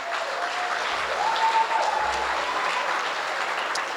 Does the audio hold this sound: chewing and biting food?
no